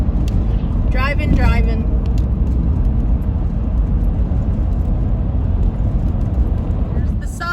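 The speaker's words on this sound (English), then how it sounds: "Driving." A car cruising along a highway on a long road trip, with a steady, loud rumble of road and engine noise throughout and a brief voice near the start.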